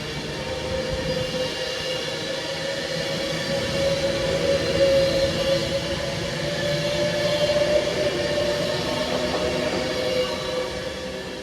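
A Class 390 Pendolino electric train rolls slowly through Rugby station, a steady low rumble and whine of wheels and traction motors holding fairly loud and even throughout, with no voices.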